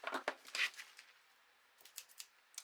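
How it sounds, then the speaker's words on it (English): A few quick scissor snips through cellophane close up, crisp crinkly cuts in two short bursts separated by a brief pause. "We're then going to grab our scissors,"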